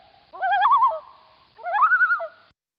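An owl gives two wavering, tremulous hooting calls, each lasting about half a second to a second, separated by a short pause and heard clearly with no background noise.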